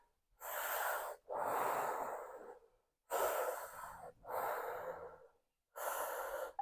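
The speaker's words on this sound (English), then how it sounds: "So 3 breaths through your mouth." Five deliberate breaths through the mouth during a squat in a hip and lower back stretching class, each a soft, airy exhale of about a second, close and clear with short silent gaps between them.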